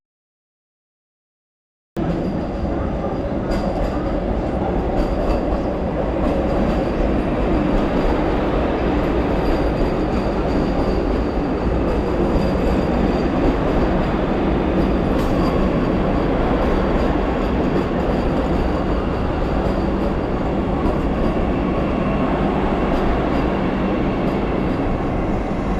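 A Vande Bharat Express train rolls through Salem Junction station, a loud, continuous rumble of wheels on rails with faint squeals that holds steady for over twenty seconds after a silent start.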